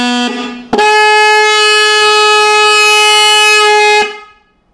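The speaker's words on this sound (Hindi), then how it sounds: "ये हमारा हॉर्न एकदम रिपेयर हो गया और ठीक से बज रहा है, जैसा नया बजता है वैसा बज रहा है।" A repaired vehicle horn blares loudly and steadily for about three seconds, preceded by a brief short toot, then cuts off and leaves silence.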